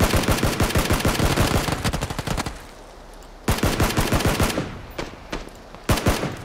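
Automatic gunfire in the battle royale game PUBG, loud rapid bursts of shots with a short pause, then more bursts and a few scattered single shots.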